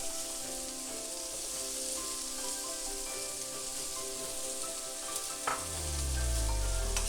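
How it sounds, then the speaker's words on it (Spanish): Green beans and garrofón sauté in oil in a paella pan for paella valenciana, giving a loud, continuous crackling sizzle with brief clinks of stirring near the end and no voices. "Y vamos a sofreír esto completamente."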